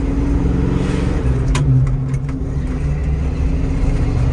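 A 1974 Ford Bronco Sport with manual steering and a three-on-the-tree column shifter drones steadily from inside the cab while driving, its low engine hum constant with a slight rise in revs and a few faint rattles.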